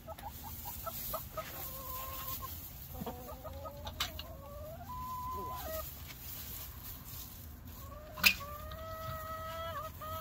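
Chickens cluck and call softly near a farm building, with short, scattered bursts and a louder squawk toward the end over steady background noise, while faint voices talk.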